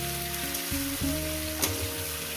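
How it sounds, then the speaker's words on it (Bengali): Pointed gourd and pumpkin pieces frying in oil in a pan give a steady, dense sizzle with occasional stirring clatter, close and continuous, with no voices. "আরও আমি 5-6 মিনিট এভাবে ভাজি, শুধু ভেজে নেব।"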